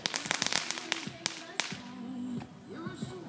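Fireworks burst outside on New Year's night in a quick series of sharp cracks and pops, some fairly close, with a crackling tail and faint voices in the background.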